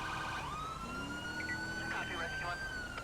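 Police siren wailing steadily from behind in the video game GTA V, a rising and falling electronic tone over engine and road rumble, moderately loud.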